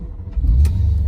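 A BMW M3 engine starts and rumbles low and steady, with a brief surge of revving partway through, close by and fairly loud.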